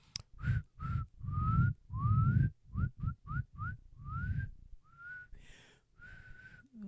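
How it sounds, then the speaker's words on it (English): A series of short, breathy whistled notes, mostly rising in pitch, some faltering, with airy blowing noise between attempts, close to the microphone. "Oh my God, I can't whistle."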